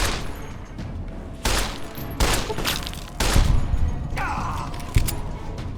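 Gunfire in the video game Fallout: Tale of Two Wastelands comes as several heavy, booming shots at irregular intervals over a dense, noisy combat background, with brief speech-like sounds mixed in.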